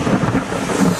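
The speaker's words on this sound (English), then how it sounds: "There's some thunder." Thunder rumbles through a Florida lightning storm amid steady rain, a dense low broadband roar with swells across the whole second, close and fairly loud, no voices.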